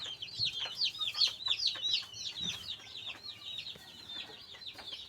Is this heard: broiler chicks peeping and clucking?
yes